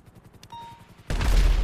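In the video game GTA V, a helicopter's rotor thumps in a rapid low pulse before a loud, dense burst of gunfire suddenly breaks out and keeps going.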